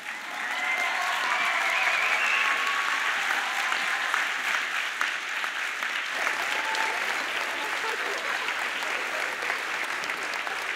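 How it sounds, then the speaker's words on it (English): Audience applause for the graduating class of 2018 at a school ceremony, a loud, sustained wash of clapping from a large crowd that fills the whole stretch without letting up. "you give a big round of applause for all these people who've been there for you."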